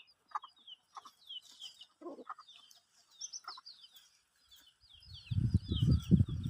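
A broody hen on a farm gives a few short, soft clucks early on, mixed with higher chirping from other birds, before a louder low rumble takes over near the end.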